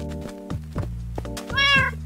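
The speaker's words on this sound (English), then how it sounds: "These cats gotta stop meowing." Cats meowing indoors, a series of short close meows followed by one longer, drawn-out rising yowl, loud and clear with no talking over them.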